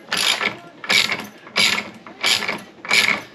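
Socket wrench ratcheting on the propeller nut of a Mercury Pro XS 115 outboard, five loud, evenly spaced bursts of rapid clicking close up, no talking.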